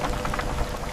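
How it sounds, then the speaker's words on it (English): Steady hiss of rain falling, a dense wash of drops with a faint low rumble beneath. "Rain is starting."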